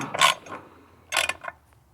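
A ratchet snugs down the bolts on Brian Tooley Racing die-cast valve covers, giving two short bursts of close clicking, about a second apart, in an otherwise quiet space.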